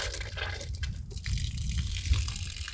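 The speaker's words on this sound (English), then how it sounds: "I can turn on my tap and I receive water" A household tap on a supply fed by a reverse osmosis plant runs with a steady, fairly quiet rush and gush of water, continuous and unbroken with no voices.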